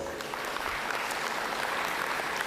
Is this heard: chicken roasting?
no